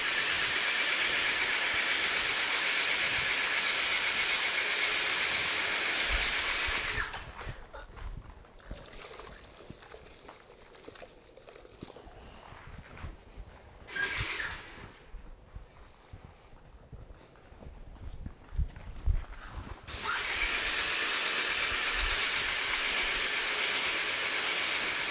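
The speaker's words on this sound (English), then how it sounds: "let's rinse these areas off" A water spray rinses test areas on a car's painted surface, a loud steady hiss that cuts off for a quieter stretch with scattered spatters and drips, then resumes just as strongly for the last few seconds.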